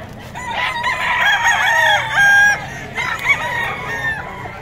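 A rooster crows twice over a noisy outdoor market background in Bocaue, the calls loud and nearby with steady ambient rumble underneath.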